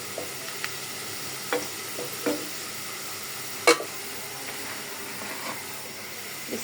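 Spiced meat sizzles as it fries with onions in a pot. A continuous close hiss and crackle runs under scattered stirring clacks and one louder knock, with no talking.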